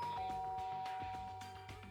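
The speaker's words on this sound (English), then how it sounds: "We're gonna ring the doorbell?" A bright electronic doorbell chime rings out in Danganronpa: Trigger Happy Havoc, a sustained tone over soft synthetic background music, no talking.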